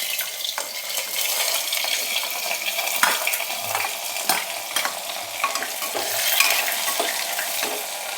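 Onion frying for veg pulao sizzles steadily in a pan, with scraping stir strokes and utensil clicks recurring throughout, close and fairly loud.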